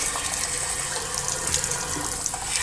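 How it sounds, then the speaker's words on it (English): Water gushes steadily from a leaky hose while washing out a steam boiler, a constant close hiss and splash with no pauses. "that hose is just a little bit leaky"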